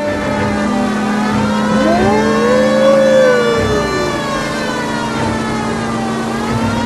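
Car siren in the video game L.A. Noire, a loud rising and falling wail over a steady engine drone, continuous and close.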